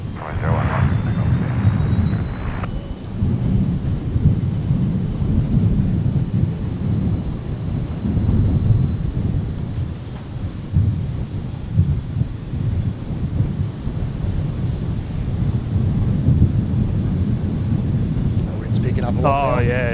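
An airliner on New Zealand flight 206 takes off from runway 01 right at Brisbane International Airport. Its engines give a loud, steady roar with wind buffeting on the microphone, and a high whine sits over the rumble.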